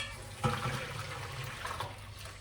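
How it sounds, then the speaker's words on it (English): Water drained off soaked salt fish is poured quickly into a bowl, a short continuous splashing pour heard close by with no talking. "So now I'm going to quickly pour it into this bowl."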